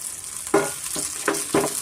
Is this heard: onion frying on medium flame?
yes